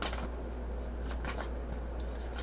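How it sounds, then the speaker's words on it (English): Tarot deck being given a quick shuffle, soft papery riffling and card flutters repeating in short bursts over a steady low hum, close and fairly quiet with no talking. "Let me just give it a quick shuffle"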